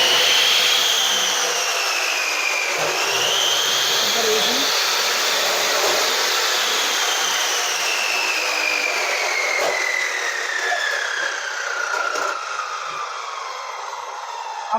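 A lock-cutting machine runs steadily for the whole stretch, a continuous high whining, grinding mechanical drone that shifts slightly in pitch, loud and close with no pauses.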